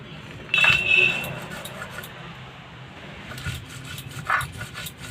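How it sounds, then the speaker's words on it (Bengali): Green chilies ground into paste on a grinding stone, with rough scraping and rubbing strokes in two bursts separated by a quieter stretch, close and fairly loud. "আমার লঙ্কাটা বাটা হয়ে গেছে"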